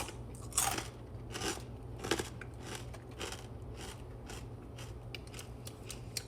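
Close-up crunching and chewing of a sweet and spicy Japanese snack with a hard, shell-like texture, with irregular crisp crunches and bites over a low background hum and no talking.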